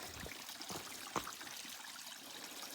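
A trail water source in Georgia runs and trickles steadily, a soft continuous wash of flowing water with faint splashes, heard alone at low volume.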